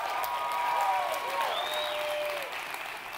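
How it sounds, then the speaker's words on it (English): Fairly quiet audience applause rolls on at a credit-repair company event, with steady clapping under faint gliding tonal sounds. "Please give him a round of applause."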